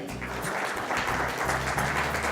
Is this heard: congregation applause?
yes